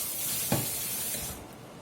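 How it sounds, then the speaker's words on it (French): A steady hissing spray of cold running water over a cooking pan, with a brief clatter midway, fading as the flow tapers off near the end. "je vais aller refroidir donc ma casserole sous le jet d'eau froide"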